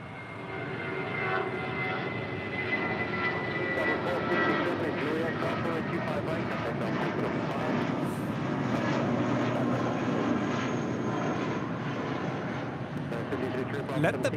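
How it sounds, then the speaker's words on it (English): A JetBlue Airbus A320 rolls for departure at LAX, its engines a loud, steady broadband roar with a continuous rumble, heard from a distance under a voice talking. "This is JetBlue Airways 1463, departing to Los Cabos on an A320 Air Premia. Now rolling."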